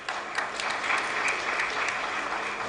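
Applause at an award ceremony during a memorial conference, with a crowd clapping steadily for a couple of seconds, a dense, even patter at moderate distance and no talk over it.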